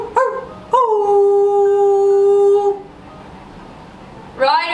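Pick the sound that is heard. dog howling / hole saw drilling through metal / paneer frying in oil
dog howling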